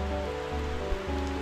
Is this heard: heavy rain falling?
yes